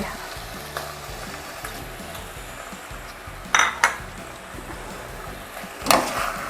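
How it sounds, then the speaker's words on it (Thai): Pork bones stir-fried with fermented soybean paste in a pan, a soft steady sizzle with a few sharp clinks of a utensil scraping the pan near the end. "ผัดค่ะ"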